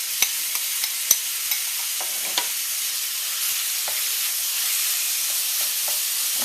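Seasoned beef pieces stir-frying in vegetable oil, a steady close sizzle with several sharp clinks of a utensil against the pan early on, then a continuous hiss.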